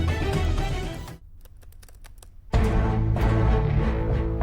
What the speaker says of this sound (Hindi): तुम्हारी ये टाइपिंग की टक टुक आवाज में कैसे सो जाऊं?